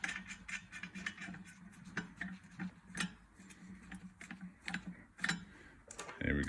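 A nut is tightened down on the air filter lid of a Pinzgauer 716 British army truck, heard as a close series of irregular metallic ratchet clicks and ticks, with no voices.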